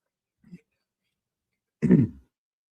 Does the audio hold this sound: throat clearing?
yes